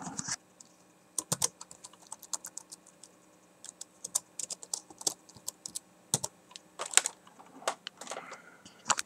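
Typing on a computer keyboard close by, with irregular quick clusters of light key clicks and brief pauses, quiet and alone without talk.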